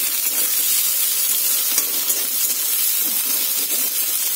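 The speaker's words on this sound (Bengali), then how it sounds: "তো পেঁয়াজগুলো এবার ভেজে নেবো আমি।" Onions frying in oil with cloves for a restaurant-style rezala, producing a dense, continuous close-up sizzle with faint stirring clicks and no speech.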